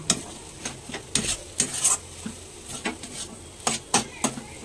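Potatoes with masala fry in a pan while a spoon stirs them, with a soft sizzle underneath and a series of light scraping clinks against the pan at irregular intervals, close and fairly quiet.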